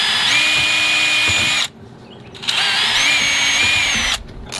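A power drill bores through old cabin wood in two long, close, whining bursts, separated by a short pause and ending in a brief stop.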